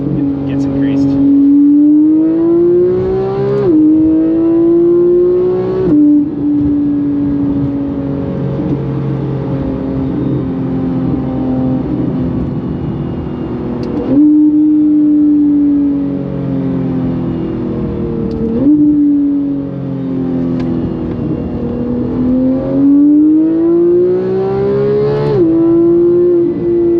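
Porsche GT3 with PDK gearbox accelerating from inside the car: loud, steady engine pitch climbing through gears, with crisp quick shifts that drop the pitch several times, a voice talking under the engine noise.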